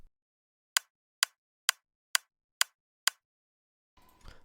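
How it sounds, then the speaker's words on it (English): Six short, clicky kick drum hits from a bright top-kick sample in FL Studio, thin and snappy with little low end, evenly spaced and played alone, followed by a brief burst of noise. "the second kick is sound like this."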